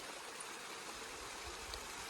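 A mountain stream in the Kaz Dağları (Ida) range flows after autumn rain, giving a faint, even rushing wash with no voices over it.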